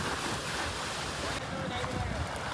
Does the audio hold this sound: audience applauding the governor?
no